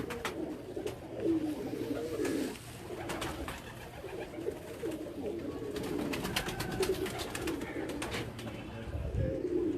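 Pigeons coo repeatedly in low, throaty rolling calls, several birds overlapping nearby, with scattered flutters and chirps in the background.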